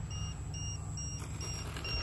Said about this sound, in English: Oh, there's a LiPo alarm now.